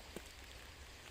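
Steady, dense hiss of rain falling hard, with a brief soft patter near the start and no voices.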